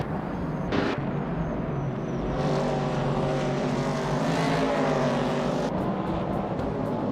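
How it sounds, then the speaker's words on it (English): Race cars speed around a track in what seems to be a racing video game. Engine tones rise and fall continuously, with whooshing pass-bys, and the sound stays fairly loud throughout. "The race kicks off with Scuderia Veloce leading the pack, followed closely by Amy in second and Maya in third"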